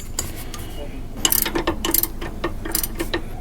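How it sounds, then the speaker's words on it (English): A ratchet tightening the top bolt of an adjustable sway bar end link on a Jeep JL Unlimited: a close run of quick metallic clicks in short bursts, with brief pauses between strokes. "We can go ahead and tighten the top one up."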